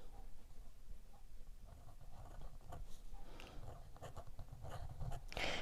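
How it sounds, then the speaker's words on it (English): A Cross Apogee fountain pen with an 18K gold rhodium-plated nib, held upside down and scratching across paper in soft, quiet strokes, with faint rustles between them. "Let's see if it writes upside down."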